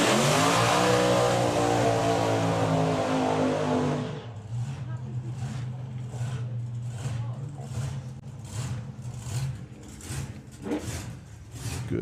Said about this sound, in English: Good strong burn out there for Jim